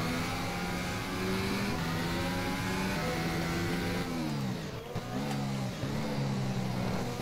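A 2014 Formula 1 car in the racing game rFactor at the Red Bull Ring, entering the pits after damage: a steady, loud engine drone with rising and falling pitch as it shifts gears and slows, and no speech.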